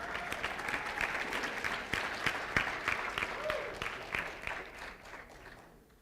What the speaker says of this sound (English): let's give a round of applause to our presenters.